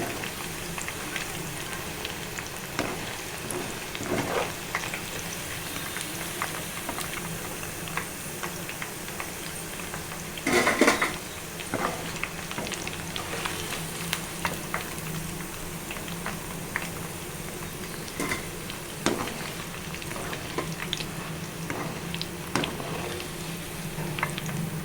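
Chicken pakodi deep-frying in hot oil, a continuous crackling bubble with scattered pops and one louder burst of spattering, steady and close throughout.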